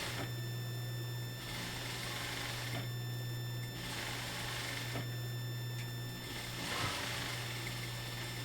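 A sewing machine stitches a garment lining in about three bursts of whirring, separated by short pauses, heard close against a low steady hum.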